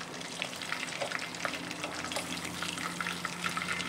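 A large-headed fish deep-frying in hot oil, giving a loud, continuous, dense sizzle with crackling pops throughout.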